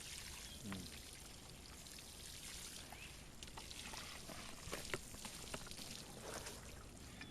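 Water is poured into the soil around a banana plant in a Florida garden, a steady, soft, fairly faint stream that runs the whole time with no voices.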